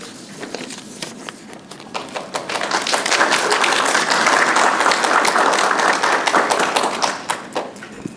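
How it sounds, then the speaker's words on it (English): An audience at a university civic kickoff claps in a dense, steady burst that swells to a loud peak midway and then tapers off, with individual claps audible at the edges. "since you started clapping, now you have to clap for everyone"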